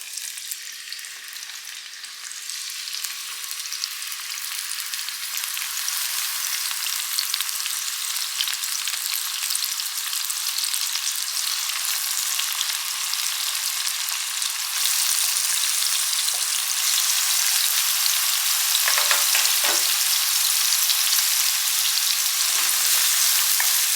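Onions sautéing in hot oil in a pan while cooking a Kerala-style mutton curry: a loud, steady, broadband sizzle that runs unbroken for the whole stretch, with faint scraping of stirring and no talking.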